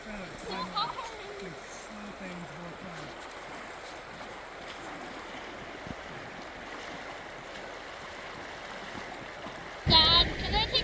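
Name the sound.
strong river current flowing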